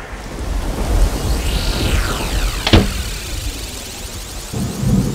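Heavy rain pours steadily under a low rumble, with a sharp crack partway through and a deeper rumbling burst near the end.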